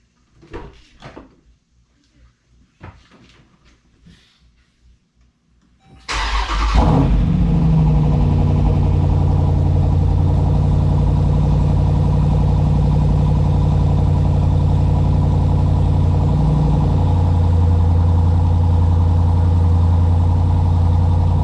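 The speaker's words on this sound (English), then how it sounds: "Higher right now because obviously I just started the engine" Soft rustling and clicks, then a car engine cranks and catches after a spark plug change, settling into a loud, steady idle that hums on without pause.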